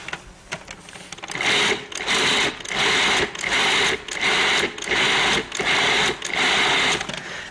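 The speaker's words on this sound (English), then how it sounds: "I'm just going to mix it very quickly until everything comes together" A Cuisinart food processor mixes crab meat and onions in short, loud pulses of motor whir, about seven bursts separated by brief pauses.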